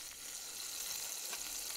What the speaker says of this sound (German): Und einfach so koche ich meine Hähnchen-Tabaka.